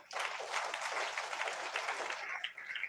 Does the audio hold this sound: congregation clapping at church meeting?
yes